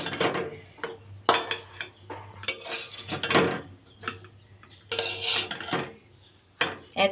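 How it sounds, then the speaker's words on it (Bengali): Fried mixed greens being scraped and tipped into a small wok, with repeated metal clanks and scrapes of pots and utensils in bursts, close and fairly loud, with no talking. "তো শাক ভাজিটা এখন আমি ছোট্ট একটা কড়াইতে উঠিয়ে নিব"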